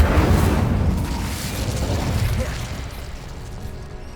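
An Incendio fire spell bursts in Hogwarts Legacy with a loud, whooshing blast at the start that fades into a rumbling, crackling roar over a few seconds.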